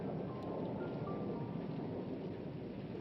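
A film thunderstorm with steady heavy rain and a low rumble of thunder fills the scene, a dense wash of noise with no voices.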